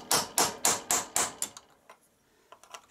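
A hammer strikes a small sharp chisel into metal on a 30-year-old Klippo lawn mower, six quick, evenly spaced ringing blows, then scattered lighter taps and clinks, close and without talk.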